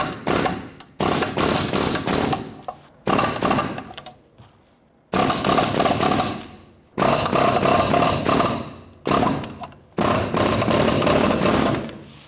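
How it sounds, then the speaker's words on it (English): A pneumatic air chisel hammers rivets out of a 1999-2004 Jeep Grand Cherokee rear backing plate in loud, rapid rattling bursts of one to two seconds, separated by short pauses. "We're going to try our air chisel first to just kind of go underneath and pop those out."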